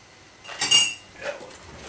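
A spoon clinks against a pan of mushrooms, two brief metallic taps, the first sharper and brighter, the second softer, in an otherwise quiet kitchen.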